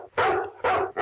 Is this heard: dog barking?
yes